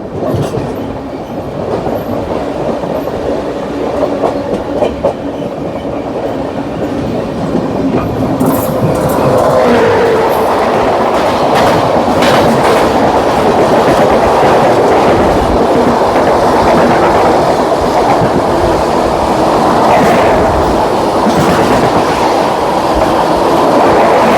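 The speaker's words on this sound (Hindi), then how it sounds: "सामने से ट्रेन आ रही है 12323 Barmer superfast express, Howrah Barmer superfast express 12323" The Howrah Barmer Superfast Express 12323 rumbles past close by, building from a distant approach into a loud, sustained roar with rhythmic clickety-clack of wheels on the rails.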